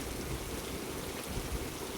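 Heavy rain with hail pounds down across Maharashtra in a dense, steady hiss of drops on surfaces, with no pauses.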